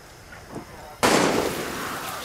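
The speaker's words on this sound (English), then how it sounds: "who's shooting?" Sudden gunfire erupts in the video game Far Cry 6, a sharp loud burst of shots after a quiet ambient stretch, followed by sustained crackling fire and echo.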